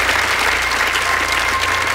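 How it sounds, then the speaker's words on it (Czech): Audience applause at the OSA annual music awards ceremony, a dense steady wash of many hands clapping, loud and sustained throughout with no voices over it. "Váš potlesk pro pana Karla Janovického."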